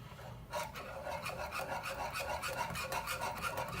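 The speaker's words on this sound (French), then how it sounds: "Vous mélangez avec le fouet pour faire fondre le chocolat." A whisk scrapes rhythmically around a saucepan while chocolate melts for a hot chocolate, giving quick, repeated rasping strokes, close but fairly quiet.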